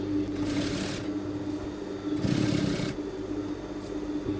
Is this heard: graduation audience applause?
no